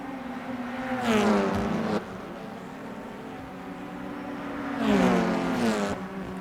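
Race cars in an rFactor 2 BTCC touring car race sweep past in two loud, close engine bursts with rising and falling harmonic pitch, over a steady background engine hum.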